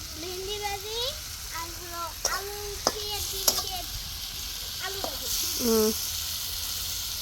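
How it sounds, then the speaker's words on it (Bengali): Okra and potatoes fry in a pan at an outdoor picnic, a steady close sizzle and hiss running underneath people talking throughout. "ওই যে ভেন্ডি বাজি করছে আলু বাজি করছে"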